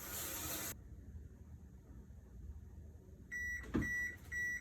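A kitchen oven signals that it has finished preheating to 375 degrees with a few electronic beeps after a quiet stretch. The beeps sit at the end, close and fairly clear, and a short burst of hiss comes before them.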